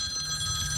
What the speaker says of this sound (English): tons of phone calls this week.